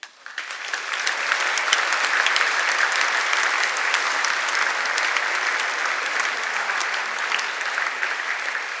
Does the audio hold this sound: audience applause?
yes